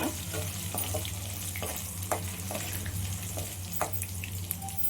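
Fish pieces fry steadily in a pan with a dense, continuous sizzle and crackle, occasional sharper pops and light stirring clicks over a low hum, close and even throughout.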